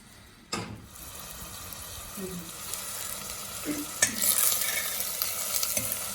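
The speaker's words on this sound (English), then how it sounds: "Now I'm putting the onion, frying the onion a little bit" Steady soft sizzling of onion frying in a pan, with a few clinks and stirring scrapes, growing slightly louder toward the end.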